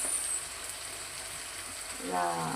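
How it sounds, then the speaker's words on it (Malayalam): Fish frying in a pan in a home kitchen, a steady hiss and crackle of hot oil running throughout, with a brief louder bubbling swell near the end. "മീൻ അങ്ങനെ ഫ്രൈ ആയിക്കൊണ്ടിരിക്കുകയാണ്"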